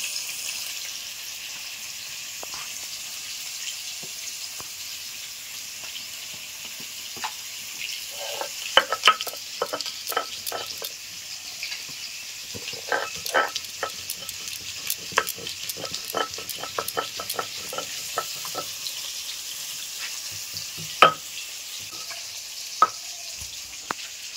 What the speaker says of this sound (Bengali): মাছগুলো আমার ভাজা হতে থাকুক